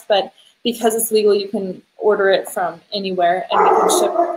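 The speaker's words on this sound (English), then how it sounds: "Oh, that's my dog." A pet dog barks and yips in short bursts, mixed in beneath someone talking steadily close to the microphone.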